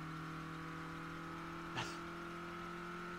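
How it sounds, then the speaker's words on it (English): A car engine in State of Decay 2 making bad noises: a steady droning engine hum with sustained tonal whine layers, fairly quiet, broken by one brief scraping burst midway. "My car's starting to make bad noises."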